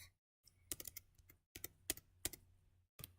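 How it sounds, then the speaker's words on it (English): Fingers type on a computer keyboard in quick, irregular bursts of close, crisp key clicks broken by short pauses, with nobody speaking. "That's what I'm typing underneath here"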